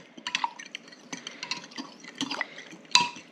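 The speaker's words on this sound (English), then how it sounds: "Now I'm gonna give this a little stir" A yeast mixture for homemade bread gets a brief stir in a bowl: soft liquid swishes broken by light, scattered clinks of a utensil against the side, close and fairly quiet.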